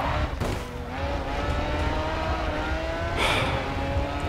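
Race car in the GRID 2 video game drives hard, a loud sustained engine drone with shifting pitch and a couple of brief bursts of tire noise, close and continuous without talk.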